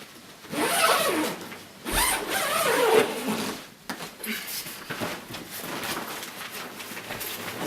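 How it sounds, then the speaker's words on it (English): Two zips on a Scicon Aerocomfort Plus bike travel bag being pulled open, each a long, close, raspy zipping run lasting a couple of seconds, heard alone without talk. "Simply 2 zips."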